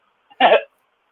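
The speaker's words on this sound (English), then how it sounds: "There goes a hiccup." A single short hiccup, close and fairly loud, from someone eating Carolina Reaper peppers, preceded by a faint catch of breath and then silence.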